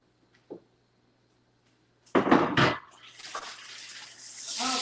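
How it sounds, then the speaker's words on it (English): Chicken breasts laid in a grill pan on a stovetop: after a couple of faint knocks, a sudden burst of hissing erupts and settles into a steady, gradually swelling sizzle. "You hear that nice sizzling going on, which is what we want."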